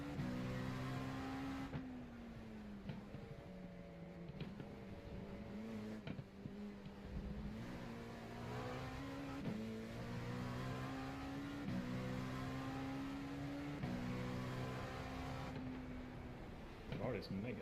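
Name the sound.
race car engine revving in iRacing video game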